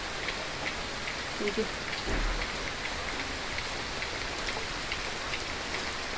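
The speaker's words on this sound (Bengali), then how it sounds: "বৃষ্টি তো ভালো লাগে" Steady rain falls on a cold rainy day, a constant soft hiss of drops on surfaces with a faint low rumble; a voice speaks briefly underneath.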